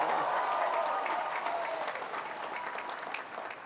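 Dense audience applause at a university graduation ceremony, loud at first and then gradually tapering off, a large crowd clapping steadily with faint voices mixed in.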